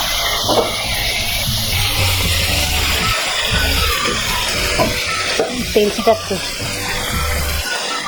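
Onion and garlic paste with green chilli paste frying in a pan for aloo dum, with steady sizzling and occasional stirring scrapes; a person talks over the cooking throughout.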